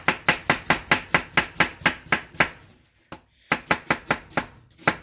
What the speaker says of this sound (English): it also can do the same type of chopping like that